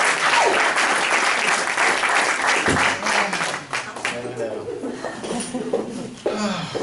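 Audience applause at a spirit-connections gathering, loud, dense clapping that fills the room, then thins into scattered claps with some chuckling and voices in the latter half.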